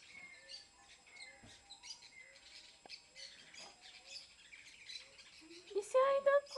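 A chopi blackbird calls with scattered chirps and squawky notes, ending in a louder burst of tonal calls, while people talk in Portuguese nearby.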